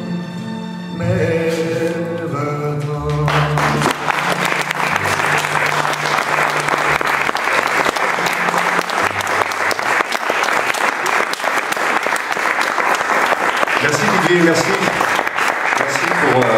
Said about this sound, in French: On peut l'applaudir parce que